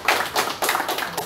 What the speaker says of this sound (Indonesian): Jadi saya ingin kita tepuk tangan juga buat kita punya